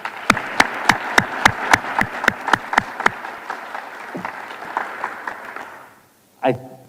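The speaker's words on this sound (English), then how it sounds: "we all have one last final round of applause for all of the honored guests tonight and for the academic scholars" An audience at a school academic banquet gives a round of applause for honored guests and scholars. It opens with a few strong, evenly spaced claps, swells into steady crowd clapping, then fades out before a brief voice.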